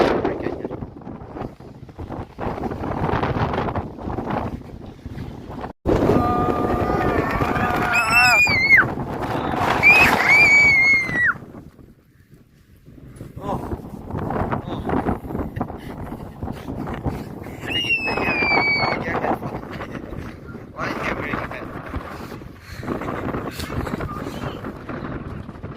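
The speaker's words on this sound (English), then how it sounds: "so windy" Strong wind gusts roar across the microphone at the Grand Canyon, dipping briefly midway before swelling again, with thin whistling tones rising above the rushing noise.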